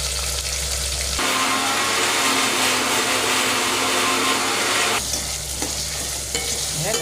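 Ingredients for a fish curry sizzle in a pan at the start and end. In between, a loud, steady machine whirr like a mixer grinder takes over for several seconds and drowns the sizzle out.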